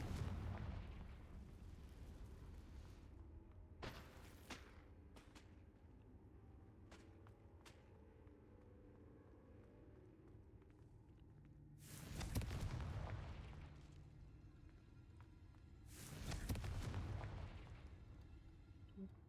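Confringo blasting spells in Hogwarts Legacy burst in a few booming explosions spaced several seconds apart, with quieter crackling impacts between them in a low game background.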